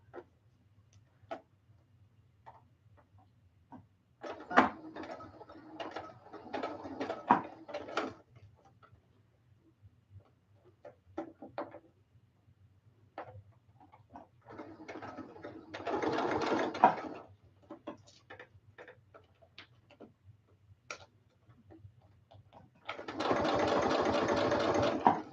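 A domestic sewing machine stitching recycled ears in several bursts of rapid mechanical whirring, separated by pauses with light clicks and handling noises, close and fairly loud, with a low steady hum underneath.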